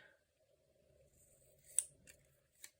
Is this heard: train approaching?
no